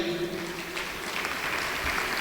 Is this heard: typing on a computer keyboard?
no